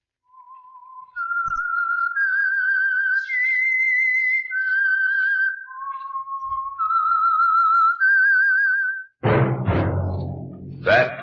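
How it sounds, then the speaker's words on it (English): The whistled theme of The Whistler radio show, a solo melody of sustained wavering notes stepping up and down, followed by a burst of orchestral music. "That whistle is your signal for the Signal Oil Program, The Whistler."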